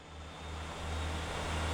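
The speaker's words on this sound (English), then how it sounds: "listen to her go. That engine sounds a lot more monstrous than it is." A turbocharged V12 engine in a driving simulation game revs up with a rising, steady drone over less than two seconds, growing slightly louder.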